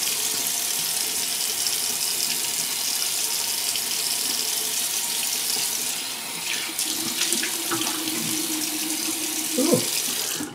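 A bathroom tap runs steadily into a sink during a shave, a constant close hiss of water that shifts near the end with a few clinks and splashes as hands move under the stream.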